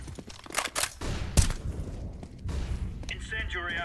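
A flashbang grenade goes off in a shooter game amid gunfire: one sharp, loud bang stands out, followed by a high ringing tone, with voices talking over the action.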